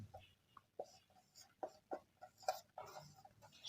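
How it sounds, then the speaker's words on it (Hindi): Marker or chalk writing on a classroom board, faint short strokes and taps in an uneven rhythm, close and quiet, with no talk over them. "यहाँ लिखते हैं हम"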